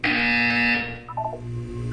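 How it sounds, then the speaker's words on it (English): A loud electronic buzzer from the video game Portal 2 sounds steadily for under a second, then fades as a quieter tone continues alone. "When you hear the buzzer, look up at the ceiling."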